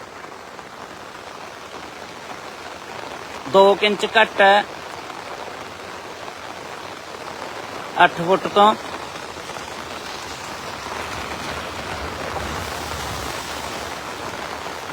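Rain falls steadily beside the Ghaggar river at Chandpura, a constant soft hiss of drops in the open, broken twice by short bursts of a man's speech.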